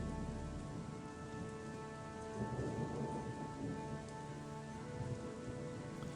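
Steady rain falls at night in the role-playing game Chronicles of Myrtana: Archolos, a constant hiss with a soft rumble of thunder swelling midway, heard quietly and with no voices.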